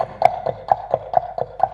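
A voice imitates a horse's hooves running on a road at a 2011 festival performance, with about eight crisp, evenly spaced clip-clop clicks at a steady trotting pace, close and clear.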